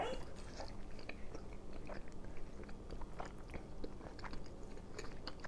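Someone eating a hot butter bean ragu with garlic Brussels sprouts, a ready-made diet meal. Close, steady chewing and soft biting runs throughout, with wet mouth sounds.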